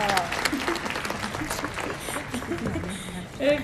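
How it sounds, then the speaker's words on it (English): Audience applause at a book launch for ICICE Al Noor Academy, a dense patter of clapping at moderate volume heard together with voices talking and calling out over it. "Please clap for ICICE Al Noor."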